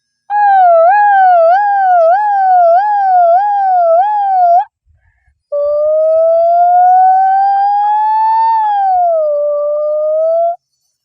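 A child vocally imitates a 108 ambulance siren, first a rapid warbling wail for several seconds, then after a short pause a long rising-and-falling tone, loud and close with nothing else heard.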